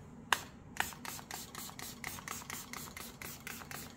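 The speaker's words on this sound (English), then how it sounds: "Let's give it a quick spray." Small travel spray bottle misting resin dominoes: two sharp pump-spray hisses, then a quick run of faint rhythmic clicking and spritzing pulses, quiet and close.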